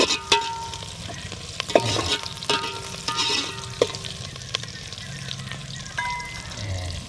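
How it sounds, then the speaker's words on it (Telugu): Moong dal frying in oil in a pan for a jackfruit and moong dal curry, a steady low sizzle with repeated scraping and stirring clinks, moderately close and fairly quiet, with no talk. "పప్పు నూనెలో మంచిగా ఫ్రై చేయాలన్నమాట"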